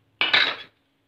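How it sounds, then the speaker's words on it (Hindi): Raw chicken, about 1 kg, drops into a metal karahi pot for white chicken karahi with one short clattering, sloshing impact that fades within half a second. "इसके बाद हमने ये 1 kg चिकन लिया था, ये हम बीच में डाल देंगे।"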